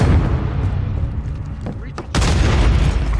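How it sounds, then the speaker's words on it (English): A stun grenade detonates in the Modern Warfare video game: a sudden loud burst midway through, following steady rumbling battle noise with voices under it. "Stun grenade out!"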